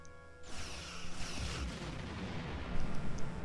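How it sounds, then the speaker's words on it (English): Starship weapons firing in Star Trek Online, heavy booming blasts and rumbling bursts layered into a dense, continuous barrage with a strong low-end punch, no voices. "Target that ship and fire all weapons."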